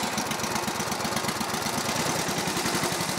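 A homemade mini tractor engine runs steadily up close, a loud continuous chugging idle with a fast, even knocking pulse.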